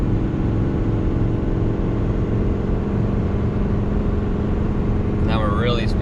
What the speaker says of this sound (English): Now we're starting to speed up.